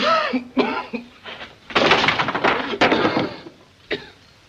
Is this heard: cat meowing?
no